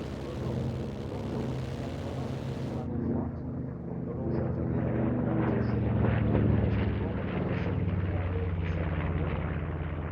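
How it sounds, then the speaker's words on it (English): An MBB Bo 105 helicopter flying aerobatics at an airshow, a steady loud rotor and turbine drone that swells and recedes across the whole stretch, with outdoor crowd and wind noise mixed in. "another of the Flying Bulls items at ILA was the MBB Bo 105 helicopter"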